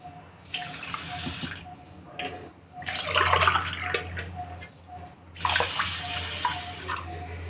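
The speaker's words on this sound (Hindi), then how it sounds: "चावल को मैं धो ली हूँ। इसमें पानी डाल देते हैं फूलने के लिए।" Water is poured onto washed rice in a bowl so it can soak for fried rice. Three close splashing pours come in bursts with short quiet gaps between them.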